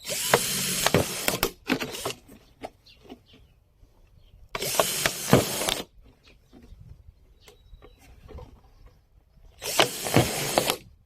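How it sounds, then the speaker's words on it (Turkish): A power drill bores holes around the sides of a plastic bottle in three separate whirring bursts of about a second each, close by, with quieter handling clicks and rustling of plastic in between. "Dört tane delik deleceğiz şişenin çevresine."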